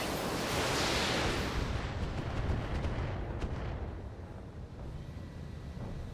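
Video game artillery fire, a loud sustained roaring blast with a long rumbling decay that fades gradually, heard alone.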